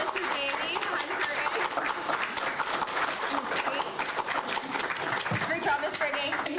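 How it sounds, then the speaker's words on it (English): An audience at a student performance gives a steady round of applause for the accompanist, dense clapping that holds evenly across several seconds, with voices and a few cheers mixed in. "And another round of applause for our accompanist"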